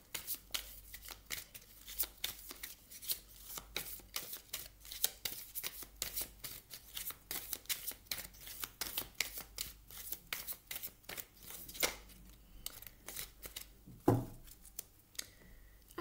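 Tarot cards are shuffled steadily for about sixteen seconds during a reading, making a dense run of quick, close papery riffles and flicks with a sharper slap near the end. No one speaks.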